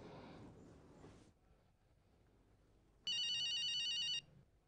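A telephone rings once in a quiet room, a bright electronic trill lasting about a second after a few seconds of faint background sound.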